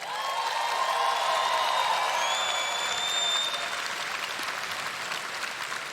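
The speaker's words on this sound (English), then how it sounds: "can I get a round of applause for Florent and the incredible dancers once again?" At the closing ceremony of a YMCA 175th anniversary event, a large audience gives a sustained round of applause for the dancers, continuous dense clapping throughout with faint whistles rising above it.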